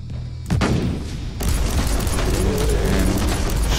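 A grenade blast followed by sustained gunfire in Warhammer 40,000: Inquisitor, a sharp loud boom at the start, then another impact and rapid, dense shooting rolling on without pause.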